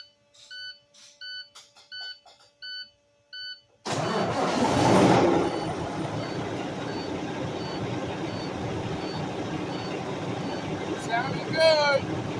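International Prostar truck after injector sleeve repair, its engine cranking and firing into a steady loud idle after a run of short beeps, a brief voice near the end.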